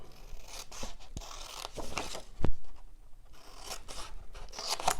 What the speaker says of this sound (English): then I'm going to cut just straight up